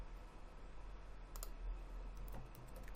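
Someone typing text in MS Word 2010 on a computer keyboard, a few soft, quick key clicks in short bursts, faint against a quiet room hum.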